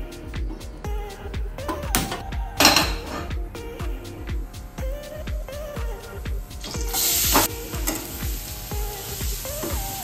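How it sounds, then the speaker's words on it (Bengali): Onion and garlic frying in a pan with a steady close sizzle, broken up by repeated clinks and scrapes of a utensil stirring against the metal pan, with no talking. "ব্যাস পেঁয়াজ রসুন ভাজা শেষ"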